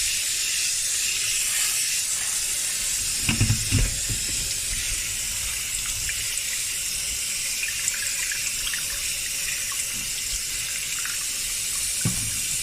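Tap water runs steadily into a sink to make a vinegar soak, a constant hiss and splash close by with a couple of brief louder knocks or clatters partway through.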